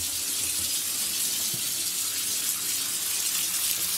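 Water runs steadily from a tap, a continuous close splashing rush with faint knocks underneath.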